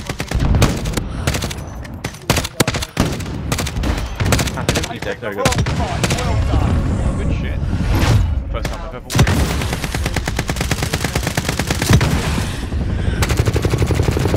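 Gunfire in Call of Duty Warzone: dense, loud bursts of automatic weapon fire and sharp shots almost nonstop, with brief pauses, while a player's voice speaks over it.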